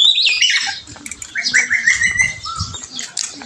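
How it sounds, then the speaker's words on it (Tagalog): Birds squawk and chirp repeatedly in a lively, overlapping chorus close by outdoors, with some cooing mixed in and no talking. "Mga ibon siya rito."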